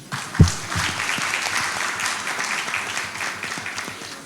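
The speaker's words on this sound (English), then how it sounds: "The CIB choir. Round of applause for them." Audience applause for a bank choir at an anniversary launch event, a dense, even clapping that opens with a single low thump and then continues steadily at a strong level.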